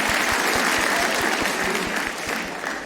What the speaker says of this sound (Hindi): मैं बिल्कुल एक बार हमारी टीम के लिए तालियां होनी चाहिए दोस्तों